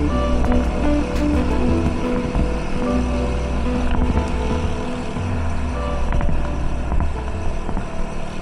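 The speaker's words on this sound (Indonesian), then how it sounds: "Suara mesin motor berpadu dengan angin yang berhembus pelan." A motorcycle climbs a gently rising road between Ciampea and Jasinga. Its steady engine drone runs continuously under a broad rush of wind noise, with no talking.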